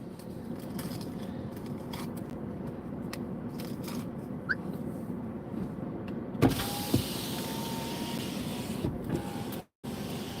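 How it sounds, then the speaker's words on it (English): A car drives along a road through wooded New Jersey countryside on an icy Christmas Day, its steady engine and road rumble continuous and close, with a few small clicks and knocks and a brief dropout near the end. "driving around in the woods"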